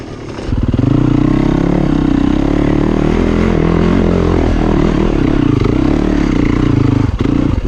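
A dirt bike engine works hard up a steep hill, loud and close throughout, with a steady low roar and a rattling, clattering edge. Nobody talks.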